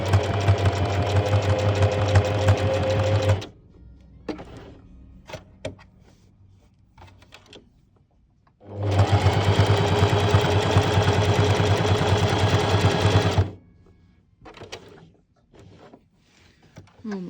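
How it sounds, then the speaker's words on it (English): Sewing machine stitching fabric for a small opossum plushie, running in two steady bursts of about four seconds each, separated by quieter handling sounds and faint movement. "just make 1 or 2 very small stitches because it will make it easier to turn and make a V shape"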